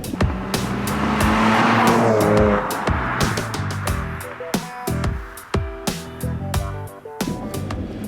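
An enthusiast sports car is driven hard around the corners of a handling track, its engine revving and shifting in bursts with tire noise, loud and close throughout, no talking.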